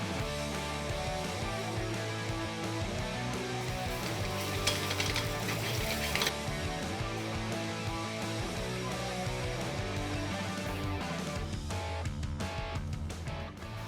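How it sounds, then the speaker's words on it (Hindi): Cumin seeds, black pepper, onions and vegetables sizzle steadily in a hot pan for masala macaroni, a loud continuous frying crackle with intermittent stirring scrapes and clinks of a spoon against metal. "यहाँ पे ज़ीरा थोड़ा सा भुन रहा है, काली मिर्च भुन रही है और इधर प्याज और सब्जियाँ ऑलमोस्ट पक चुकी हैं।"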